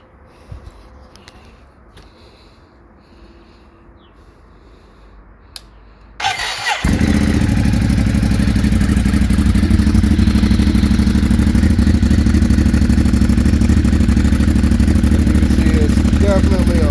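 A 2020 Ducati Monster 821 fitted with an Akrapovic exhaust starts up after a quiet stretch of faint rustling, then holds a loud, close, steady rumbling idle with clattering texture right at the exhaust.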